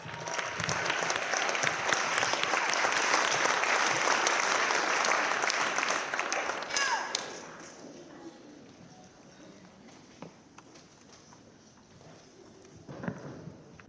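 Audience applause at a high school National Honor Society induction ceremony, a dense, steady wash of many hands clapping that cuts off abruptly near the middle, leaving quieter room noise with scattered claps afterward.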